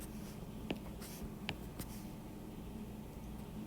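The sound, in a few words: writing a math proof step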